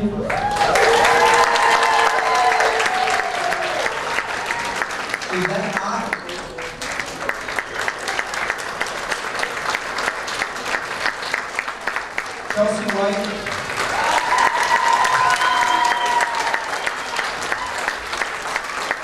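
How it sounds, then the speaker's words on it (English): An audience applauds after a dance performance celebrating women, with a voice speaking over the sustained clapping at intervals throughout. "please give a big round of applause to the people that made this happen"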